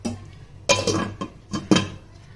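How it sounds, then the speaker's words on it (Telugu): A lid is set onto a pot of simmering Rayalaseema-style fish curry, giving a few close metallic clinks and clatters in quick succession, each sharp and short, with no talk over them. "ఇప్పుడు మూత పెడదాం."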